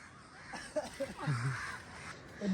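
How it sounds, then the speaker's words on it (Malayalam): Several crows caw in an outdoor spot in Thalassery, giving scattered harsh calls of moderate loudness over a faint background. "ഫുള്ള് കാക്കച്ചികള്."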